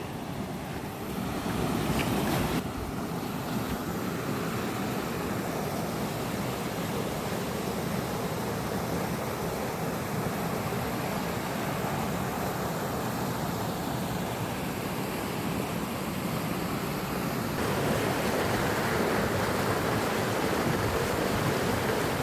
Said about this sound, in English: Here comes our first glimpse of the creek.